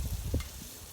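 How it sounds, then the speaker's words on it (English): Food frying and sizzling in a pan on a steel cooktop, a soft, close crackle with a faint thump near the start, quiet and short with no talking. "we just gonna let these cook and sizzle"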